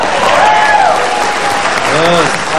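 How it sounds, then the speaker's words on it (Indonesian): A television studio audience at an Indonesian talk show claps in a steady, loud burst of applause, close and continuous, while a voice speaks over it. "Tepuk tangan."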